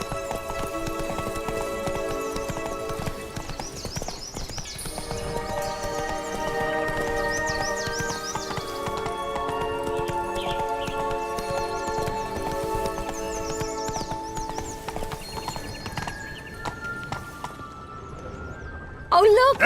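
A horse gallops in the video game The Witcher 3, its steady, rhythmic clip-clop hoofbeats running continuously under game music.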